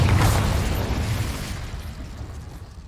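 A Confringo spell blast in Hogwarts Legacy, a loud booming explosion that erupts at once and rolls off into a long fading rumble, with no talk over it.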